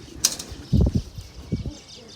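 A quick burst of pigeon wings flapping, followed by low thumps and soft rustling close by, with no clear talk.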